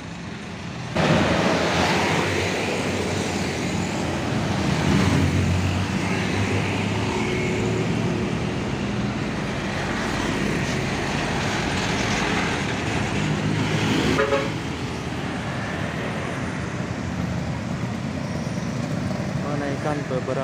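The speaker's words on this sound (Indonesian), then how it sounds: "Jam 12:55 meluncur bus Bagong" A Bagong intercity bus rolls past on an Indonesian road near the Cikonjang junction, a steady loud roar of engine and tyres that swells and then fades, with a brief horn-like toot near the end.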